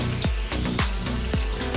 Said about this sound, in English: we want to go fat side down. That sizzle means we're good.